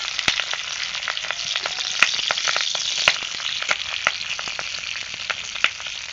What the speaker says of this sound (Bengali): পাতুরি ভাজা শুরু করে দিয়েছি। কড়ার মধ্যে দিয়ে দিয়েছি।